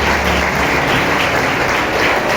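A church congregation applauds steadily and loudly throughout, a dense unbroken wash of many hands clapping together at close range with no voices standing out.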